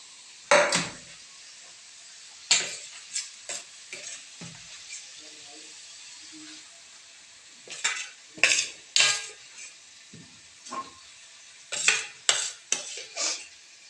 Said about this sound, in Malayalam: ഓയിൽ വെച്ച് ഫ്രൈ ചെയ്യുക